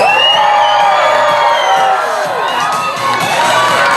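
A loud crowd at the Kentucky Kingdom amusement park in Louisville cheers and whoops, with high-pitched shouts and children's voices blending into a sustained roar.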